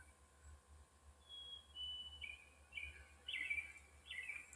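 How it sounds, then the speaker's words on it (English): Spring birdsong outdoors: several short whistled calls and chirps, faint and scattered, over a low steady breeze with no talk. "Just enjoying the beautiful bird calls of spring, hearing the breeze"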